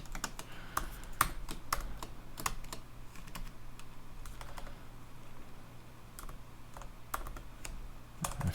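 Code being typed on a computer keyboard: a steady stream of close, crisp key clicks at an uneven rhythm, with occasional louder keystrokes over a low, constant hum.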